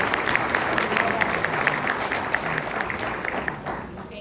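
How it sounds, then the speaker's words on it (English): An audience at a real estate team leader panel claps in a steady, dense burst of applause that fades slightly toward the end. "Let's give them a round of applause."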